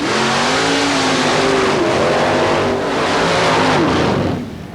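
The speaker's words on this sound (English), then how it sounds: "Here's an unusual combination of Fiat powered by a big block Chevrolet Chuck Brown in Mudaholic." A Fiat mud racer powered by a big block Chevrolet engine on paddle tires roars at full throttle through a mud racing course in Bayou George, Florida, in 1990, loud and continuous with a rising, shifting engine pitch before it drops off at the end.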